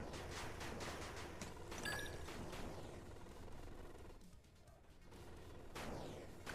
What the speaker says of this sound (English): Looks like they got the artillery from somewhere